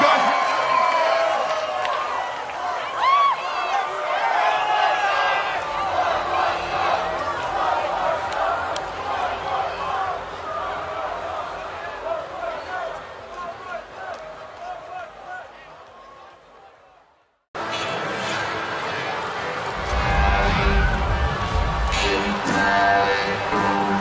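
A festival crowd at a live DJ set at Ultra Music Festival roars and whoops loudly and continuously, fades briefly, then surges back with heavy bass-driven music underneath; a voice is mixed in with the noise.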